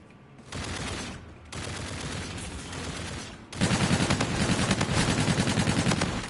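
Rapid automatic gunfire in a Call of Duty match, loud close bursts in three stretches with short gaps, the last burst longest and heaviest, with no talking.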